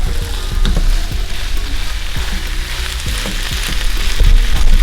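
Vegetables for a noodle dish sizzling in a hot pan, a loud continuous frying hiss up close with occasional soft stirring knocks.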